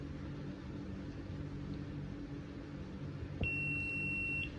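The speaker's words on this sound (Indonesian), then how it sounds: "Nah itu buzzernya menyala ketika status kandangnya kurang." An electronic pet feeder's buzzer sounds one steady high-pitched tone lasting about a second near the end, over a low background hum.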